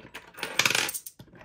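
Coins being dropped one after another onto a pile while counted, a quick close burst of bright metallic clinks and jingles followed by a couple of isolated single clinks.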